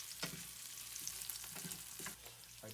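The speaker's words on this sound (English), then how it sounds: "I use canola oil, or you can use any kind of oil except olive oil. I put onion in there. I cook it for a few minutes." Onions fry in canola oil with a faint, close sizzle and a few soft stirring scrapes.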